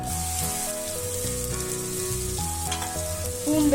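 Finely chopped garlic sizzles and fries steadily in hot oil for prawn gravy, a continuous crackling hiss with music playing over it throughout.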